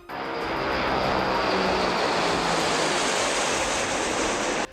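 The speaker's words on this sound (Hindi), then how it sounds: "सिग्नल मिलते ही विमान के इंजन चालू हो गए और इसमें लगे पंखों ने तेजी से घूमना शुरू कर दिया।" Modified Tu-95 military propeller aircraft on takeoff from an air base, its engines giving a loud, steady, broadband roar that holds continuously throughout.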